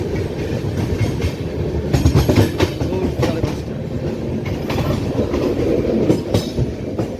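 The 12837 Superfast Express from Kolkata to Puri, heard near the Mahanadi crossing, runs with a loud, close rumble and steady rhythmic clickety-clack of wheels over rail joints, with no voices.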